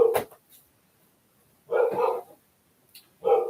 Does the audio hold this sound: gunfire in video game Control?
no